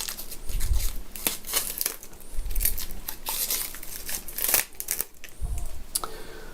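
Protective plastic wrapping is peeled off a new Arlo Essential Spotlight Camera with repeated crinkling and tearing rustles, some quick and sharp, close and moderately loud, with muffled low thumps of handling throughout.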